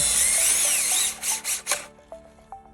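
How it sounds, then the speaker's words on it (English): A screw is driven in while a hydraulic ram cylinder is reassembled with a seal kit. A high, whining power-driver drone with shifting pitch runs for about two seconds, then breaks into short bursts and light ratcheting clicks, with no talking. "then we're going to start this screw"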